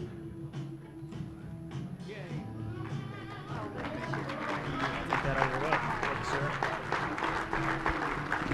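An audience applauding elected officials at a community gathering, clapping that starts sparse and swells into dense, sustained applause, with a voice talking over the start.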